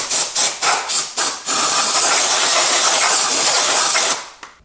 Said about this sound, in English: And now it is the time for compressed air.